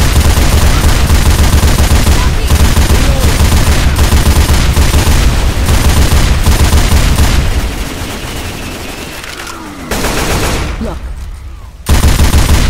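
Massive gun turrets lined up on a wall in Left 4 Dead 2 survival blast away in loud, rapid, dense automatic bursts that thin out near the end, with a brief voice heard.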